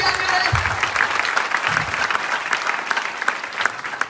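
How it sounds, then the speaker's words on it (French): A church congregation applauds through a sermon, with sustained clapping throughout and a voice speaking over the crowd. "Si tu veux acclamer, il faut bien acclamer."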